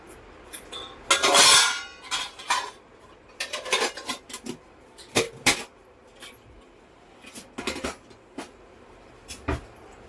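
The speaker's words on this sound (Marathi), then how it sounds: "हे जिरं भाजल्याच्या नंतर चांगलं थोडंसं असं हलकं छान भाजून घ्यायचं आहे" Cumin seeds roasting in a pan while a spoon stirs them for a Kolhapuri peanut chutney, heard as irregular scraping and clinking strokes against the metal over a quiet background, close and intermittent.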